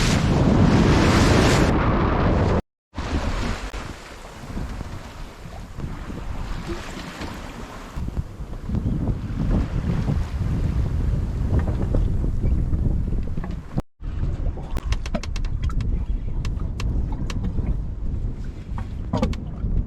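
A Rival 32 sailboat on a broad reach in about 12 knots of wind, with steady rushing water along the hull and heavy wind buffeting the microphone, loud and continuous with two brief dropouts.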